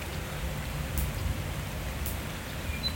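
Warm rain falls steadily during a thunderstorm in a field where horses stand out in it, a soft even hiss of drops on surfaces throughout, with a couple of faint brief higher taps and no voices.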